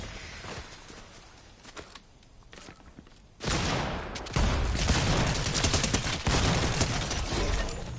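Gunfire from the video game Fortnite: scattered faint clicks and taps at first, then a loud, dense stretch of rapid shooting that continues steadily to the end.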